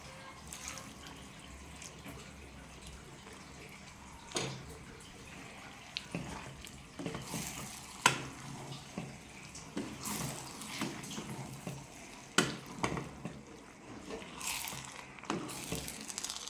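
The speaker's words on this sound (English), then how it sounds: "So I'm going to add some water." Water is added to a pot of cooking potatoes for a meat pie filling, with quiet splashing and intermittent sharper clinks and gurgles over a faint background hiss.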